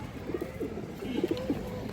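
Pigeons, including a female, give several soft, throaty coos in short bursts close by, with no talk over them.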